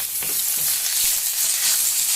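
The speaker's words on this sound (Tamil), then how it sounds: "நல்லா வதக்கிக்கலாம்." Curry leaves, ground pepper and spices frying in hot oil in a tempering pan for Iyer-style ven pongal, a steady close sizzle with faint stirring clinks, no voices.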